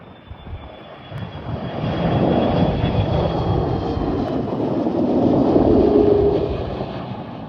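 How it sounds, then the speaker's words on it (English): A Qantas Airbus A330 jet passes near the runway at Perth Airport, its engines a broad steady roar that swells and peaks toward the end before easing slightly. "So that was the Qantas A330 in the One World livery."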